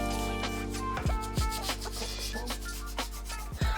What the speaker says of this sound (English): always be sure to scrub the underside of where the sink and the countertop meet.